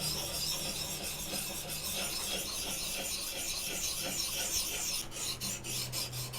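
Steady rasping strokes of a file and honing oil working an axe edge held in a sharpening jig, a continuous close scraping that carries on alone without pause.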